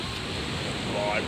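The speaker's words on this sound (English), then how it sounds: "You can hear the water splashing in the background." Water splashing and surf washing at a beach reserve in Auckland, a steady broadband wash with wind buffeting the microphone, close and continuous throughout.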